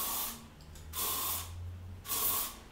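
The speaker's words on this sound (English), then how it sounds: "you can always use a light spray of hairspray" Two short hissing bursts from an aerosol hairspray can, close up, separated by a brief pause with faint mechanical clicks.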